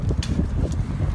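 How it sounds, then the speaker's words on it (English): Strong outdoor wind buffets the microphone in low rumbling gusts, loud and close, for a short moment. "And it's really windy. I'm sure you can tell."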